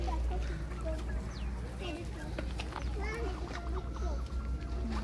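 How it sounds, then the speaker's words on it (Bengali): Turkeys at Bonolota resort in Bishnupur, Bankura, give short clucks and calls over a steady low rumble, with children and other voices chattering in the background throughout. "টার্কি মুরগি মানে তুর্কিতে মুরগি, তুর্কি দেশের মুরগি এগুলো দেখতে পাচ্ছেন"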